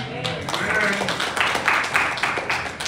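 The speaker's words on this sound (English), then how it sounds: "Clap your hand for him." A church congregation at a Sunday worship service at Hickory Grove claps for the preacher, uneven bursts of hands clustering in loose waves. Voices call out amid the clapping.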